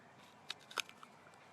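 Biting into a crunchy yellow Barhi date gives a couple of sharp, close crunches with a faint crackle after, set against a quiet background.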